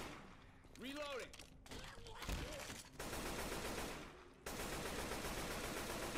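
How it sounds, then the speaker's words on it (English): Gunfire from shooting zombies in the video game Left 4 Dead 2, sustained rapid bursts over game noise, with people talking over it. "I'm just shooting at zombies"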